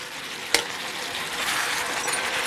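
Pork, onion and carrot stir-fry in a pan for spicy gochujang pork, with a continuous, moderately loud sizzle and a single sharp utensil clink near the start.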